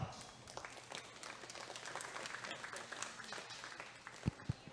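Crowd applause in a barn at a junior fair steer show, a steady patter of clapping with a couple of sharp louder claps near the end and faint voices underneath.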